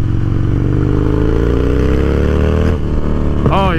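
Harley-Davidson motorcycle engine running on a freshly tuned setup, a loud steady low rumble that rises in pitch toward the end as the throttle is blipped, heard close up with no talking.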